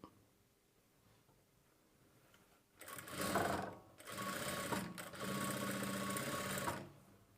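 A sewing machine stitches the side slit of a churidar top, lining and main fabric together, starting after a quiet stretch and running in two loud steady bursts with a short pause between.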